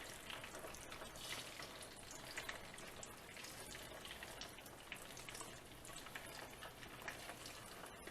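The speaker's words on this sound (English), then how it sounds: "Now we're going to take them in and fry them off until they get a nice brown crust." Boiled pierogies fry in hot oil, giving a steady soft crackling sizzle like light rain, continuous and fairly faint throughout with no talking.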